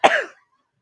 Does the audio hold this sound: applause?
no